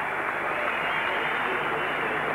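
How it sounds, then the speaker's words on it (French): An arena audience applauds after a women's gymnastics floor routine at the 1994 European Championships in Stockholm, a dense, steady wash of clapping that fills the whole moment without pause. "Applaudi par le public."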